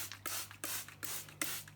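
Several quick hissing puffs from a hand spray bottle misting plants in a planted aquarium, evenly spaced and close, with a faint steady hum underneath.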